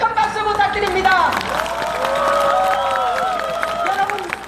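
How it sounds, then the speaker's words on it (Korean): A crowd at an outdoor political campaign rally on Dongseong-ro in Daegu's Jung district, heard as a steady mix of clapping, cheering and crowd hubbub under an amplified speaker's voice. "다시 한번 큰 박수 부탁드립니다."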